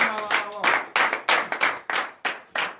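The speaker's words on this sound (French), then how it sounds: "donnez une vive acclamation à l'Éternel" A church congregation at morning prayer claps in acclamation, with a steady rhythm of sharp group claps in regular bursts, near and loud, a voice briefly heard at the start.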